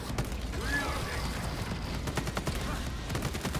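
Bolt carbine gunfire in the Space Marine video game, heard as a rapid, fairly even stream of sharp shots mixed with clanking weapon mechanisms, moderately loud in a busy game soundtrack.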